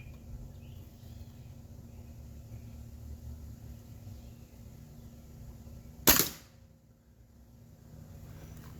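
One sharp crack from a Hatsan 135QE Carnivore .30 air rifle stands out after several seconds of quiet outdoor background, followed by a brief hush as the sound dies away.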